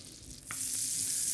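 Butter pieces drop into a hot frying pan that was just used for a potato and egg mixture, and a steady bright sizzle builds and holds, close and fairly loud, with no talk.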